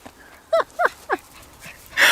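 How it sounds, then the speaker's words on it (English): Three short, high yelps or barks from a puppy in quick succession, fairly close, followed by a brief rustle and a burst of noise. "with a wild puppy dog"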